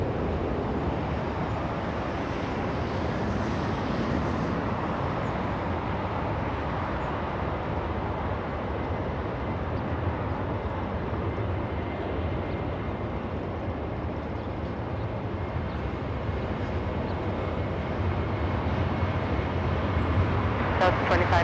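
A jet taking off from runway 24 Left at LAX, heard as a steady broadband engine roar that holds loud and even throughout, with a faint radio voice audible beneath it.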